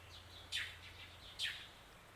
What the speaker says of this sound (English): You guys hear the birds?